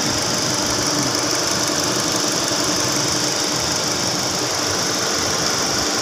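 A 2016 Suzuki Swift four-cylinder engine running after its transmission was reassembled, a loud, even, close-up drone with a slight knocking texture, holding steady throughout with no voices.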